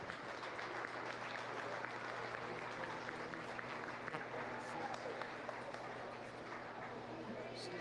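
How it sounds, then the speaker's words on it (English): Audience applause at a county fair livestock arena after a goat doe is named grand champion; steady dense clapping fills the whole stretch, with crowd murmur and livestock noise underneath. "Let's give her a nice round of applause."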